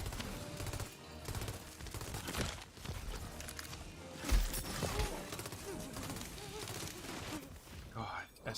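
Rapid SMG gunfire from the Tiny Tina's Wonderlands video game, with dense bursts of shots through a busy mix of game sounds and music, plus one heavier impact midway.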